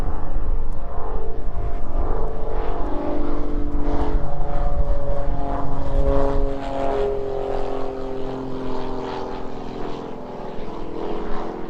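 A propeller aircraft taxiing out at East Midlands Airport drones loudly nearby with a steady tonal engine hum, easing somewhat in level after the midpoint as it moves away.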